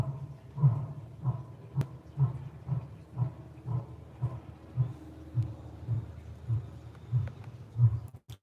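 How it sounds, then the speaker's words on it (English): A lion roaring in a slow series of deep, rhythmic grunting calls about every half second, moderately close and steady, with no talking over it. "Do you hear the lion?"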